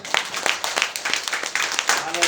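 A church congregation claps loudly in a steady rhythmic beat, sharp even hand claps repeating about three times a second with voices mixed in.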